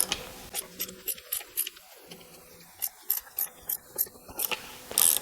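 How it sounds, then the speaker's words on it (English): A socket wrench ratchets to undo a strut nut on a Porsche Boxster, giving a string of sharp, close clicking bursts with short pauses between strokes and no talking. "I'm going to have to use a wrench and a socket to get the rest of it"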